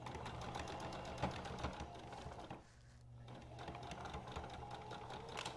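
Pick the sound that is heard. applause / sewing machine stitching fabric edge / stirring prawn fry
sewing machine stitching fabric edge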